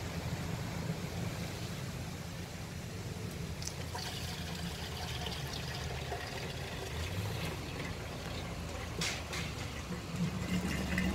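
Fuel being pumped into a vehicle at a filling station, a steady low pouring rush that runs throughout without any break.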